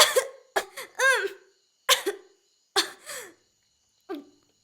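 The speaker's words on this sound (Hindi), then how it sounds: "ये लो, खांसो मत।" Several short, sharp coughs in a Hindi film scene, spaced in separate bursts over a few seconds, close and fairly loud, with quiet pauses between them.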